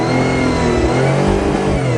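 A car engine holds a steady, loud rev, close by with no other sounds, for about two seconds.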